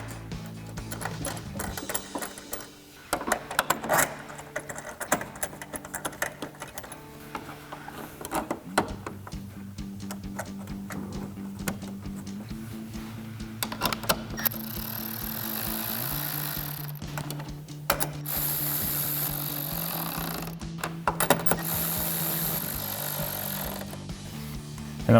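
Bolts being reinstalled and tightened on the lower corner of a 2019-2024 RAM 1500 grille, with a rapid, buzzing rattle of a power tool in bursts mixed with clicks and metallic ticks, up close.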